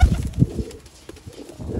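Pigeons coo in low, throaty bursts, strongest at the start, then fainter cooing continues amid light background rustling.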